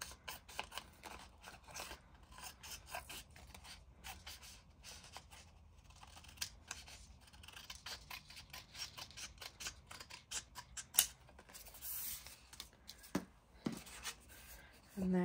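Scissors snip repeatedly through washi tape and paper ephemera. Close, dry cutting clicks come in irregular runs, with soft paper handling sounds between them.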